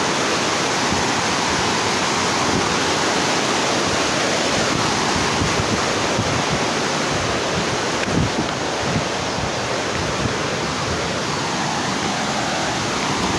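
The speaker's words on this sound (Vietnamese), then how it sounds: "Anh em thác nước trên chạy nè." A strong waterfall in Da Lat rushes and roars steadily and loudly throughout, a dense continuous wash of falling water close by with no speech.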